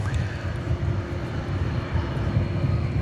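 An American Airlines Airbus A321 jet arrives from Seattle at night at DFW Airport, its steady low engine roar and rumble sustained and fairly near throughout.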